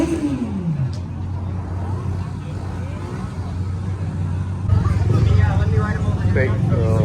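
Motorcycles at a bike night rolling past in the open, engine drone rising and falling with a louder pass near the end, while people talk in the background.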